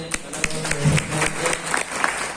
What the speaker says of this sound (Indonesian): Jadi tepuk tangan semuanya.